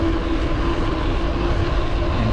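Surface 604 Shred electric mountain bike climbing a hill in PAS5, a loud steady motor whine over heavy rushing wind noise, with no talk.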